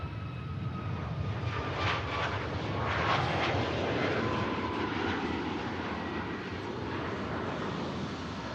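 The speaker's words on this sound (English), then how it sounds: "And a KLM about to land as well. Airbus A321 Neo coming in from Amsterdam Schiphol." A KLM Airbus A321neo from Amsterdam Schiphol on approach to land at Manchester Airport roars as a loud, continuous, broad jet rumble that swells slightly midway and holds steady.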